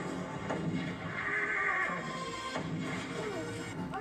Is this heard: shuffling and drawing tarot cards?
no